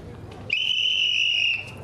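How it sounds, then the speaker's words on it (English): A single sharp, shrill whistle blast held steady for about a second, loud and close, with quiet background murmur before and after. "with the whistle"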